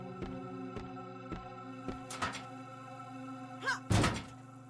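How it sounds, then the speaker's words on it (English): Metal locker kicked repeatedly in the horror game Crow Country, a series of hollow thunks at a steady rhythm, then a louder, sharper bang near the end, with no talk over it. "Not sure if we should be kicking a locker if there's a grenade inside."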